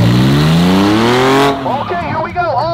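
A Subaru BRZ doing a burnout, its engine droning in a loud rising-and-falling whine with harmonics; the sound drops off midway into rougher tire and crowd noise, with voices shouting nearby.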